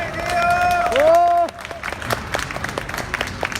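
Crowd applause at a candlelight rally, a scattered clapping that starts after a loud amplified voice and continues at moderate level through the rest.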